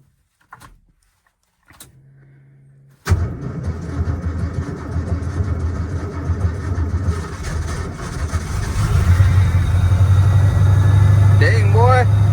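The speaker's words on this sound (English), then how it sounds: "5-degree cold start" A Ford F250 pickup's engine cold-starting at five degrees: a few faint clicks and a brief cranking whine, then the engine catches with a loud roar and settles into a steady, rumbling idle that holds to the end.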